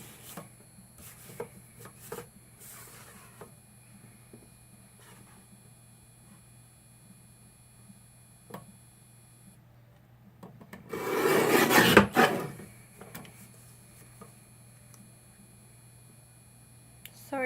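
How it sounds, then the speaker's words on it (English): Scissors cutting through decorative card paper, a pink sheet with gold print, for a handmade Mother's Day card: a close, rasping burst of snips after quiet handling noises, with a steady computer-fan hum beneath. "I'm going to cut that out."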